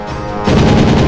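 An enemy gun in the Alien Hominid HD video game fires in a rapid, unbroken burst, loud and close, starting abruptly partway through and running to the end with no talk over it.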